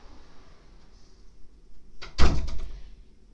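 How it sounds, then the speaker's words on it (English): A door is pushed shut indoors with one solid, close thud and a brief rattle of the latch, after quiet room tone. "Just going to shut this door, make it a bit more quiet."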